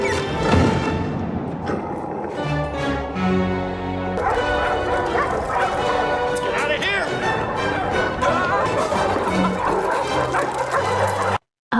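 Many dogs bark and yip together in a loud, continuous chorus with a dense film backing score, lasting throughout before cutting off abruptly at the end.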